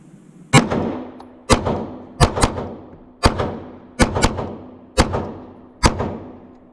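Glock 19 pistol fitted with an Apex trigger fired at a range, eight sharp, close shots in a steady string, including a quick double, each ringing out briefly with no talking.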